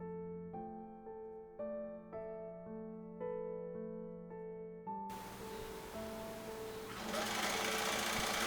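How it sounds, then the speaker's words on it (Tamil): A sewing machine runs steadily over fabric, stitching along an existing seam line for a worship shelf cover, its dense whirring rising after a stretch of tonal music and growing louder near the end. "அந்த ஏற்கனவே போட்ட ஸ்டிச்சிங் லைன் மேலேயே ஸ்ட்ரைட்டாக பொறுமையாக"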